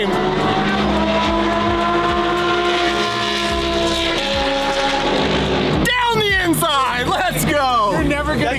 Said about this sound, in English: I can't wait to hear the race car on the track.